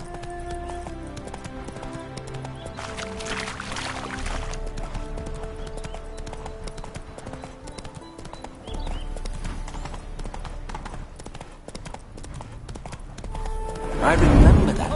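Horse hooves clip-clop at a steady pace in The Witcher 3, a rhythmic trot heard over game music and background voices.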